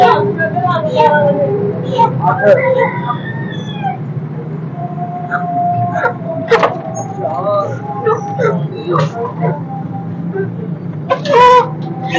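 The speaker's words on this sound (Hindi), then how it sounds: "ये देखो जी चूजा लैके आए ने इन्होंने" Chicks peeping and clucking at a meat shop, with many short chirps scattered throughout at close range over a steady low background hum and faint voices.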